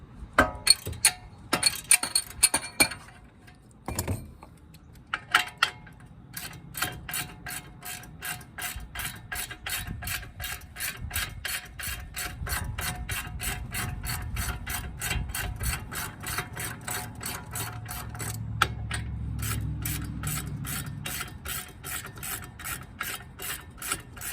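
Wrench with a metal-pipe cheater bar loosening brake caliper bolts on a Buick Regal GS with Brembo calipers: a few sharp metallic clanks, then a long, steady run of rapid, evenly spaced ratcheting clicks, close by with no talking.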